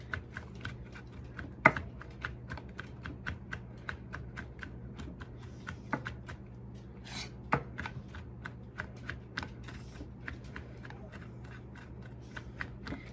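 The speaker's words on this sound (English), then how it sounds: "So we're just gonna chop this up really," A kitchen knife chops fresh sage finely on a cutting board for sheet-pan Thanksgiving stuffing, a quick, steady run of sharp close taps, faint and with no talking.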